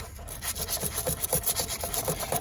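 A brush scrubs corrosion off a battery terminal on a 1993 Toyota Camry in quick back-and-forth rasping strokes, close up and fairly loud, with no talking.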